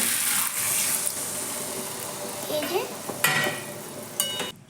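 Water goes into mixed vegetables cooking in a pan on a village stove, a soft continuous sizzle and gentle bubbling with faint clinks of a spoon, heard close and fairly quiet.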